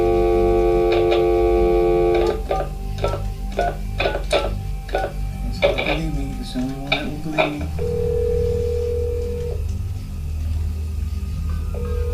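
A telephone gives a steady dial tone, then a series of rapid dialing beeps and clicks, and a second lower tone follows, loud and close with low rumble underneath.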